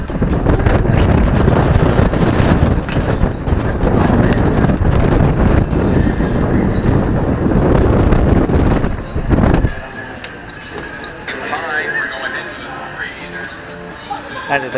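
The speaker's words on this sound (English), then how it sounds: "So the wind blows." Strong wind at Salagdong Beach on Siquijor Island during stormy, typhoon-like weather, buffeting the microphone in heavy roaring gusts that suddenly drop off near the end, with people talking throughout.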